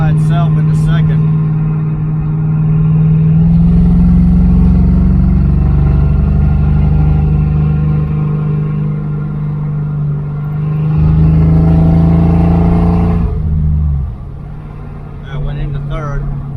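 A 1978 Dodge Aspen R/T rumbles loudly from inside while driving, its engine note rising and falling as the transmission shifts and drops back into second on its own, with a clunk near the end.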